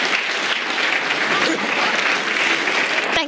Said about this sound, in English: I think a big round of applause for carbon generally.